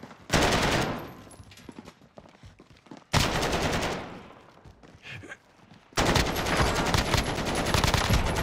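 Automatic gunfire in Call of Duty: Warzone (Modern Warfare), loud bursts rattling in three long volleys separated by quieter gaps with faint background noise.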